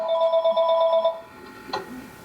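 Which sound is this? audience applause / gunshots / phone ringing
phone ringing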